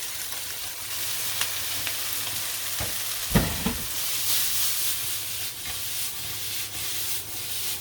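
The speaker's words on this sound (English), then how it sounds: "We'll put the prawns in with these. Now the onions are nicely softened up a bit." About 500 grams of prawns tipped into a hot pan of softened onions, with a brief clatter as they land and then a steady, close sizzle of frying that carries on alone.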